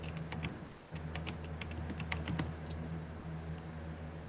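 Rapid clattery typing on a computer keyboard, a steady run of close key clicks and taps with a low hum beneath and no talk.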